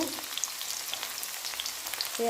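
Onion and garlic frying in hot oil with panch phoron for an Assamese-style mutton curry, giving a continuous close sizzle speckled with small pops and faint stirring clicks.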